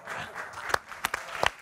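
A studio audience on an Italian live television show claps, with a soft wash of applause and a few sharper individual claps, fairly quiet and brief.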